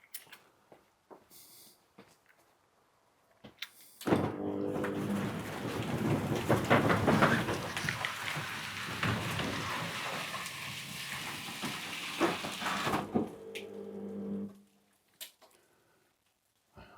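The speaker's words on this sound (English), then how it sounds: "so it said operate the door a few times now." A jamming garage roller door runs with a loud rattling, rumbling roar for about nine seconds, framed by a few quieter clicks and knocks before and after.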